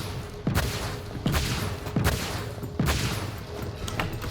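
Weapon fire in the online shooter Rocket Arena: four punchy shots with booming tails, evenly spaced under a second apart, loud and close.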